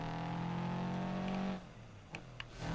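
A car engine drones steadily while driving in BeamNG, a loud, even, humming tone that cuts out after about a second and a half, leaving a few faint clicks and a quieter engine rumble.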